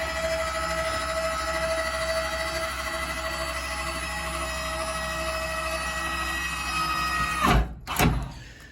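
Electric stabilizer jacks on a 2021 Salem 28VBXL travel trailer retract with a steady motor whine and mechanical drone, ending in two sharp clunks as the jacks stop at full retraction.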